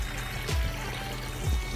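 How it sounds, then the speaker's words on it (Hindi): Irrigation water runs through a channel in an onion field, a soft, continuous trickling and pouring with a couple of faint gurgles, heard briefly without talk. "देखिए ये यहाँ से पानी चल रहा है"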